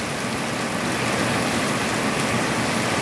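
Heavy typhoon rain pours down steadily, a dense, even hiss of rain on surfaces that fills the entire short clip without pause.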